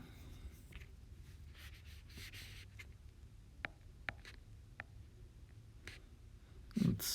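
Pen or pencil writing out polar-coordinate math on paper: a steady soft scratching with small tapping strokes, fairly close and quiet, with no one talking.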